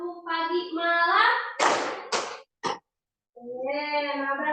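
A short burst of schoolchildren's hand claps in a classroom clapping game, two strong claps and a softer third, set between a young voice talking before and after.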